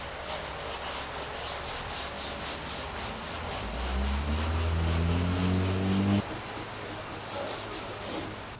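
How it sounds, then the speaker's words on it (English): An orbital sander with 40 grit paper grinds steadily against a rusty classic car body with a constant rough hiss, its motor tone rising midway before dropping back. "he's cutting it with some 40 grit paper on the orbital sander"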